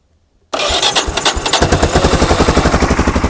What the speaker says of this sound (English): I'm just going to short out the solenoid, which will turn the engine over